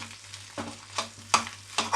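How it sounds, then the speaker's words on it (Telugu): Fish roe sizzles as it fries in a pan while being stirred, with a low frying hiss underneath and several quick scraping stirs coming in a loose rhythm, close up and with no voices. "బాగా ఫ్రై చేసుకోవాలి ఫ్రెండ్స్."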